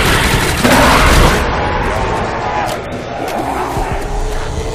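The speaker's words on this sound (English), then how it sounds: "Was that a grenade?" A grenade explodes in the Der Riese map of Nazi Zombies, a loud boom at the start that rolls into a fading rumble, with a player's voice and game sounds around it.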